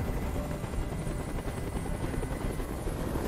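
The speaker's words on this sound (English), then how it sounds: "I can't stand that noise anymore. Tell that helicopter to get out of here." A helicopter hovers nearby in the video game Detroit: Become Human, its dense, loud rotor thrum filling the whole span with a steady, unbroken chopping roar and no voices over it.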